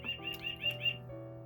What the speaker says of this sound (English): The birds are happy today,